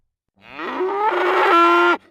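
A bull in Vietnam gives a single loud, close moo, rising and holding for about a second and a half before cutting off abruptly, with no other sound around it.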